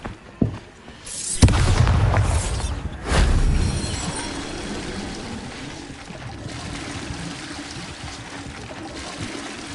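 Spell explosions from the Bombarda charm in a Harry Potter-style video game: a sharp pop, then two loud booming blasts with rushing debris that fade into a low rumble and quieter game ambience.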